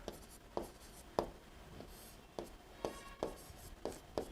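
Pen strokes writing a heading by hand on paper for a Rajasthani folk-song lesson, about eight separate scratchy taps and strokes at a steady rhythm, close and fairly quiet, with no talking.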